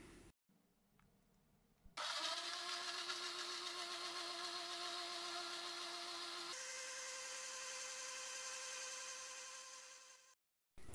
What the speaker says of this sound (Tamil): இப்போ நல்லா பிளெண்ட் பண்ணி எடுத்துடலாம்.